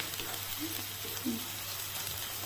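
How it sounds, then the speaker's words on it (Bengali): Ginger garlic paste fries in a pan for a mushroom masala, a soft, steady sizzle with faint crackles, quiet and close, with no talking. "কাঁচা স্মেলটা যাওয়া অবধি ফ্রাই করে নেব আদা রসুন।"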